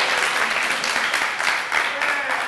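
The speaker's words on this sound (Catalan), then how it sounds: "El públic pot anar donant suport, i aplaudint els seus companys." A studio audience on the Catalan quiz show Pica Lletres claps dense, steady applause for contestants, a continuous loud wash of hand claps throughout.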